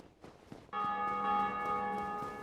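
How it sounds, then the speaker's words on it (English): A single bell tolls in Dark Souls Remastered, struck once and ringing on with a long, sustained metallic hum that holds steady over faint ambient game sound, fairly loud and distant-sounding. "every time we hear that bell ring, that's another player somewhere in the world ringing that bell too"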